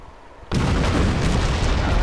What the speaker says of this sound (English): Explosions, Michael Bay.